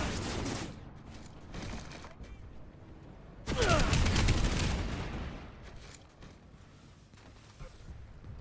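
Pulsar rifle fire in the PlanetSide 2 video game, with rapid bursts of shots amid distant battlefield gunfire and explosions, one loud close burst in the middle, then quieter scattered fire fading into the background.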